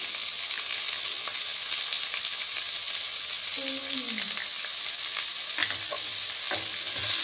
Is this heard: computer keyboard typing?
no